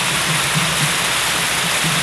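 Spring water flows steadily out of the ground at Cold Springs, a loud, continuous close rush and splash of running water with no pauses and no talk.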